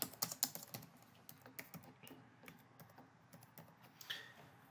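Keys clicked on a computer keyboard while an address is typed, a close, quiet patter of irregular taps with a short faster burst at the start, no voices.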